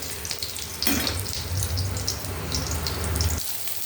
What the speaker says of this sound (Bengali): পটলটাও ভেজে নিচ্ছি